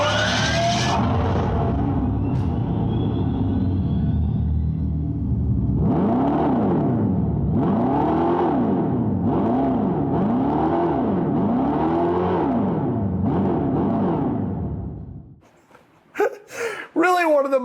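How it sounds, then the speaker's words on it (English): Dodge Charger EV's speaker-made exhaust note revved repeatedly from inside the car, a steady hum followed by about eight rhythmic rising-and-falling revs up close, ending with a few brief sharp sounds. "The Dodge Charger EV and its revvable exhaust speaker."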